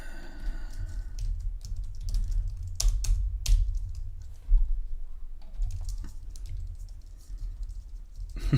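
Quick, uneven tapping on a computer keyboard, close and fairly loud, with keystroke bursts separated by short pauses and no talking.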